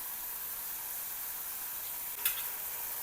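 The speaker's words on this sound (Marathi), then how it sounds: "मसाल्याला तेलामध्ये छान परतून घ्यायचं।" Whole spices sautéing in oil with roasted almonds and coconut, a steady soft sizzle throughout with one brief louder scrape or stir near the end.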